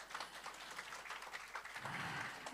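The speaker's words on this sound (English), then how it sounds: "A huge round of applause for Tracy Cross." Applause from a conference audience, a steady wash of many hands clapping continuously at a faint, distant level with no voices over it.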